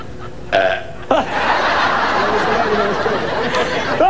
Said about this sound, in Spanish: hay quienes eructan en varias tonalidades